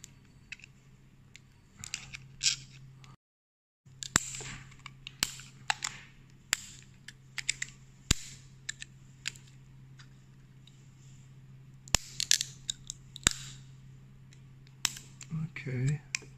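Scissors make scattered sharp snips as they trim plastic for wrapping a LiPo battery, close clicks and small crinkles spread over a low hum, with a brief silent gap partway through.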